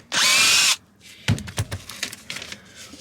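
A power drill spins out screws inside a BMW E30 interior during a tear-down: one loud, steady whir of about half a second, then scattered clanks and handling knocks up close.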